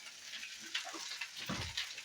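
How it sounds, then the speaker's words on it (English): Rice and chorizo sizzle and fry in a hot wok as it is tossed, giving a steady crackling hiss punctuated by soft scraping and thuds of the food landing, with no speech. "I could do the wok tossing to help break up the rice and mix in the chorizo"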